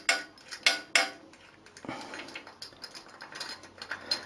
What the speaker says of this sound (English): First undo the 13mm header